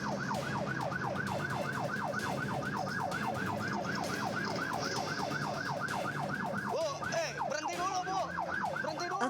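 An ambulance siren wails in a fast, steady up-and-down cycle during a chase with a minibus through a housing estate, then shifts to a more broken yelp near the end, loud and continuous over traffic rumble.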